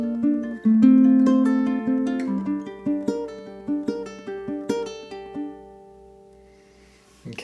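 A ukulele plays a hammer-on and pull-off etude theme, bright plucked notes and chords moving in a lively rhythm, close and clear, with the final note ringing out and fading alone at the end.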